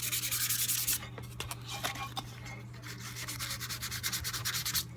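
Motorcycle parts from a Norton Commando 750 restoration being hand-sanded with 220 grit sandpaper, rhythmic scratchy back-and-forth strokes, close and continuous over a low steady hum.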